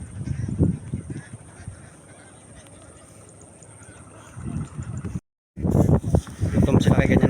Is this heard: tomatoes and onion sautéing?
no